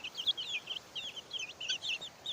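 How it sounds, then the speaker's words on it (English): A rooster calls and clucks repeatedly at close range in a backyard poultry area, with short bursts of high crowing in a steady, busy rhythm and no talk over it. "The rooster is back there."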